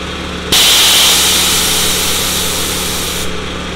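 Homemade air compressor kicking on abruptly and running at a loud, steady mechanical whine with a hissing top and low hum, holding for about three seconds before cutting off.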